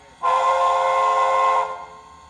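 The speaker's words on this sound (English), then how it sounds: "We can blow the whistle," A model train whistle is sounded from a TCS Wi-Fi throttle. It gives one loud, steady, tonal blast of a bit under one and a half seconds, then cuts off with a short fade.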